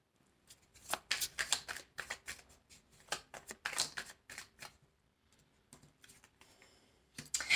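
Tarot cards are shuffled close by in rapid, crisp riffling bursts, then pause briefly before a final flurry as a card is drawn; no one speaks.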